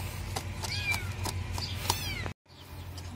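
A rescued cat meows repeatedly before being fed, several clear close calls in a row, some rising and drawn out, then a brief silence and quieter background.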